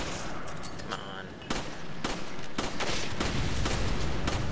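Gunfire in the video game Resident Evil 5: loud, rapid bursts of automatic shots crackle in dense clusters, with sharp isolated reports between them and the firing growing more continuous toward the end.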